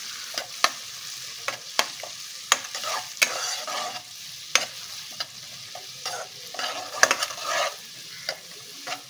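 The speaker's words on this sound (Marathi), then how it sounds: "तर आता हा मी बारीक चिरलेला कांदा टाकून घेत आहे." Finely chopped onion sizzles steadily in a pan for a butter chicken masala, broken by frequent sharp scrapes and clicks of a spoon stirring it, fairly close and with no voices.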